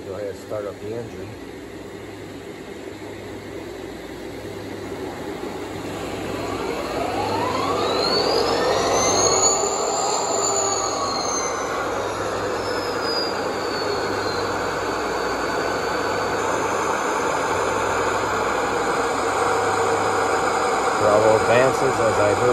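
A model Aristocraft E-8A locomotive's sound module plays a diesel engine spinning up and settling into a steady loud rumble, with rising and falling whine tones as it starts; speech is faintly present.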